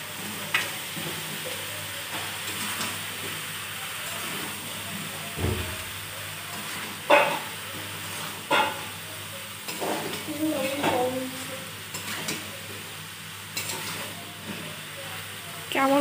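Boiled ghugni and potatoes are stirred into sizzling browned mutton in a pan, with a steady frying hiss and repeated scraping stirs throughout.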